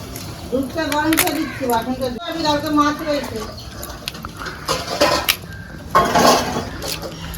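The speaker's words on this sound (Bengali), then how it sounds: "মা বাসন মাজছে।" Dishes, pots and utensils being scrubbed and washed in a home kitchen, with clattering and clinking of metal cookware heard intermittently under a woman's and others' talk.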